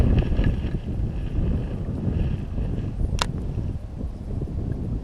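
Wind buffeting a microphone on a canal bank, a steady low rumble and roar with no talk, broken by one brief sharp click partway through.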